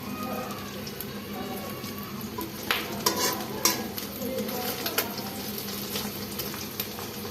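An egg frying in a pan on a home stove gives a soft, even sizzle, with a few brief clinks and scrapes bunched near the middle.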